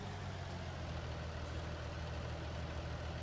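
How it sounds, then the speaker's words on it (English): Tractor engine idling in the Farming Simulator 19 video game, a steady low rumbling drone with no change in pitch, moderately quiet and heard on its own. "Let's leave the tractor here for a second."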